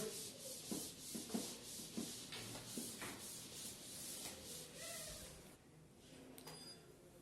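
A teacher rubs a board clean with steady back-and-forth scrubbing strokes, close and fairly faint, in a quiet room with no talking.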